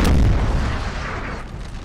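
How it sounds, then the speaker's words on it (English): Artillery fires in the Napoleonic Total War 3 video game: one loud, deep boom opens, then a long rumbling decay trails off with no other sound over it. "Here's the artillery"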